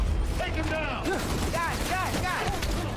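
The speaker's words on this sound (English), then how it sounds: "Follow the gunfire." Gunfire erupts in the video game Spider-Man: Miles Morales, a rapid fusillade of shots and mechanical clatter, fairly faint and mixed with game voices and chirping effects over a continuous background.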